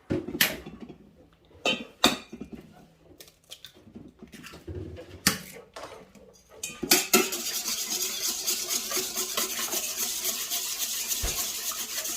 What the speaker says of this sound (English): I have 2 eggs that I'm going to beat up just a little before I put that in